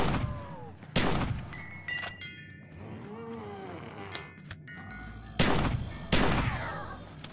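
Repeated gunshots from a gun in a VR zombie shooter game, several loud sharp bursts spread across the stretch with a reverberant tail, mixed with game effects and creature growls.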